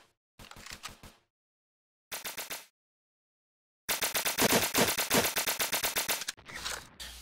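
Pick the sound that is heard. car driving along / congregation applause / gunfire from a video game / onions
gunfire from a video game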